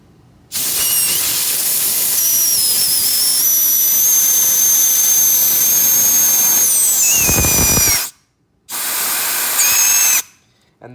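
Compressed air at about 70 PSI from a compressor blows into the back of a melted engine, a loud continuous hiss with whistling tones that cuts off, restarts briefly, then stops.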